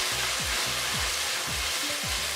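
Mutton ojri tripe fries in a pan, a loud, dense, continuous sizzle with faint low tones beneath it.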